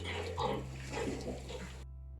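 Pigs grunt and oink close by while feeding, a steady run of low snorting grunts over a constant background hum that cuts off abruptly near the end.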